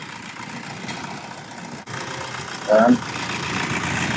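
A car engine idles steadily with its negative battery terminal removed, a low even rumble throughout with a short voice cutting in briefly near the end.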